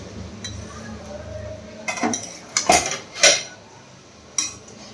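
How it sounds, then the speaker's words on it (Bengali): A metal lid comes off a cooking pot of quick pulao, bringing a few sharp clinks and clatters of metal cookware, close and loud, with quieter gaps between. "এবার ঢাকনিটা খুলে দিচ্ছি।"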